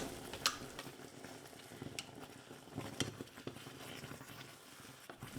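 Onion pieces and ground beans frying in hot lard in a pan give a continuous soft sizzle with occasional stirring scrapes and small crackles, close and moderately quiet, with no voices.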